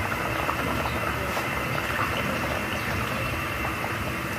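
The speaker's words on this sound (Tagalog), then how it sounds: "Ayan, kumukulo na ulit." Steady, continuous bubbling and hissing of water at a rolling boil in a pot, close by, with no talk over it.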